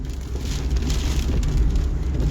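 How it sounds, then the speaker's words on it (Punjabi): Heavy rain with strong wind pours steadily onto surfaces nearby in Chandigarh-Mohali, a dense, even patter with a low rumbling undertone. "ਸਵੇਰ ਤੋਂ ਹੀ ਤੇਜ਼ ਹਵਾਵਾਂ ਔਰ ਬਾਰਿਸ਼"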